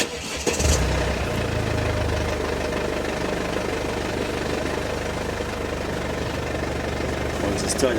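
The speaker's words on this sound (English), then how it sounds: "Sometimes you can literally jump in it, press the start button, and the starter motor will spin over a few times and it will start" A Mercedes C250 d diesel engine cranks briefly and catches, then settles into a steady, loud diesel idle with a knocking clatter that continues evenly to the end, heard up close.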